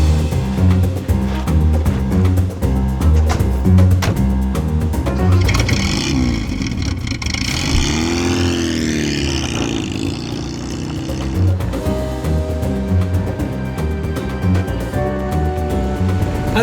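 A Volvo P1800 pulls away, its engine revving and rising in pitch through the gears with a loud, close rumble, while voices talk briefly over it.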